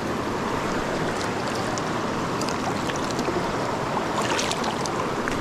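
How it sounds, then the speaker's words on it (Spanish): Strong river current rushing steadily, a loud broadband roar of flowing water that stays even throughout, with faint splashes on top and no voices. "está la corriente muy fuerte"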